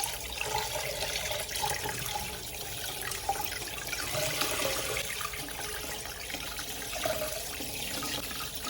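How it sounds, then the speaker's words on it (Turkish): Cleaned sea bass rinsed under a running kitchen tap, a steady close splash and hiss of water with occasional small spatters and clinks, no talking. "Sadece sudan geçiriyorum."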